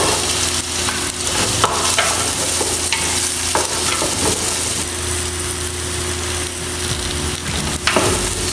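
Onion, garlic and ginger fry together in a hot wok for Filipino pinapaitan, giving a steady, close sizzle with scraping stirs and occasional clacks of a utensil on the pan throughout.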